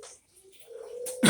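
A puter pelung dove gives a faulty 'ngguguk' coo: a faint, low hooting tone that swells and holds, then ends in a sudden louder rough burst.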